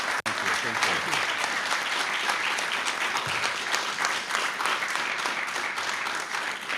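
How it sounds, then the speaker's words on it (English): Loud, dense audience applause fills a National Press Club luncheon for a congressman guest speaker, sustained evenly with faint voices beneath the clapping. "How about a round of applause for our guest speaker today?"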